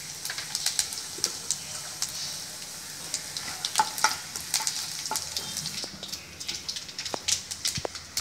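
Dried red chillies and vadagam frying in hot oil with mustard seeds, tempering for a fenugreek-leaf moong dal gravy; a steady close sizzle and crackle with scattered sharp pops throughout, no talking.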